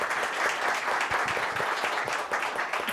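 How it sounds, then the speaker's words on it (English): An audience applauds at an evening real-estate event, with dense, steady clapping that carries through the whole short stretch at a moderate level. "let's give them a round of applause"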